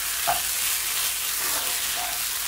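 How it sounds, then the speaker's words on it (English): Curry seasoned rice with spring onions is stirred in a non-stick pan, a steady soft sizzle with faint scraping strokes of the spoon at intervals, close and continuous. "And you want to stir that up"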